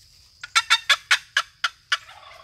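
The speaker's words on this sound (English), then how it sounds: "a yelp is a cluck with rasp at the very end" Seven sharp, evenly spaced raspy yelps are played on a long wooden box turkey call, each note clear and close, then trailing into faint lingering resonance.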